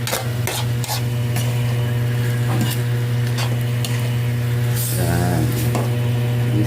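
Ingredients for pork sinigang sautéing in a pan: a steady sizzle under a low hum, broken by repeated close scraping stir strokes and a brief burst of louder frying near the end.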